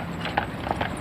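Draught brewery horses clip-clopping as they pull a tanker, a few distinct hoof strikes close by over a low steady background.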